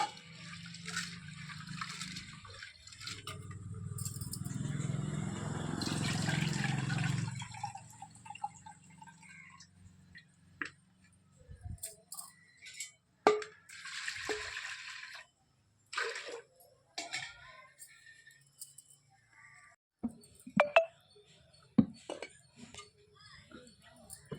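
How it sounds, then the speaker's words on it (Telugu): Toor dal lentils being rinsed with water in a vessel for Andhra-style pappu charu, a sustained sloshing and swishing wash for several seconds, followed by scattered drips, clinks and short handling noises. "ముందుగా ఈ వాటర్ పోసి శుభ్రంగా కడుక్కోవాలి."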